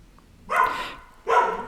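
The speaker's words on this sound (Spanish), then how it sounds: "voy a entrar a la perrita porque está ladrándole a la gente" A small female dog barks twice, separated by a short pause, fairly close and clear with no talk over it.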